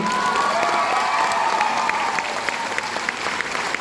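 An audience at a stage programme claps and cheers continuously, a dense, even wash of applause that holds steady throughout with scattered voices in the crowd.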